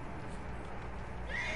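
A horse in the video game Red Dead Redemption 2 gives a short whinny over a steady background of game ambience.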